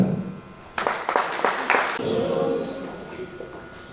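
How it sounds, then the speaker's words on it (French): At a training session in Kinshasa, an audience claps after some faint talking, the applause rising in uneven bursts and then tapering off into a light scattered patter over room noise. "que nous puissions l'applaudir"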